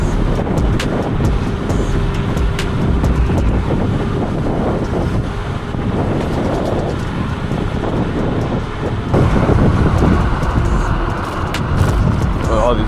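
Steady, loud wind buffeting the microphone while riding an electric hyper scooter straight into a headwind on town roads, a continuous low roar with gusts and bumps throughout.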